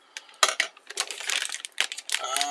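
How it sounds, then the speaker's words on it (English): Plastic mailbag sealed with strong tape being torn and wrestled open, loud close crinkling and ripping bursts in irregular clusters with brief pauses between them. "Seriously, the plastic bag's gonna rip instead of the."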